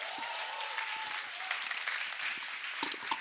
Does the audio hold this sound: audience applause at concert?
yes